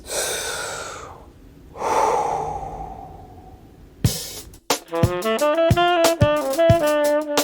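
Deep breathing during a guided calming exercise: two long, slow, close breaths, each a soft airy rush that swells and fades, before a bright musical jingle starts.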